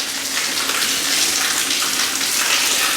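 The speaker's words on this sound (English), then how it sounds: "so we hose this thing off" Water from a hose spraying steadily across a fish tank to rinse off dust, a continuous loud hiss and splash with no talking.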